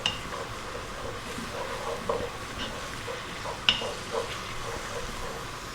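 Garlic ginger paste is stirred into a hot pot over lively heat, giving a soft sizzle under scraping and clinking from a utensil against the pot. The clinks come as a few sharp taps, and nobody speaks.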